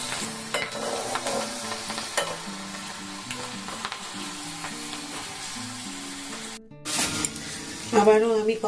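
Food frying in a pan over a raised gas flame, a steady sizzle with clinks and scrapes of stirring, overlaid by background music, with a brief break near the end.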